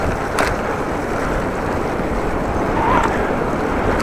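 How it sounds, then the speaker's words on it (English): Very heavy wind roaring over a microphone while riding a bike, a constant loud broadband rush with gusty swells and no talk. "Wind is a very powerful factor"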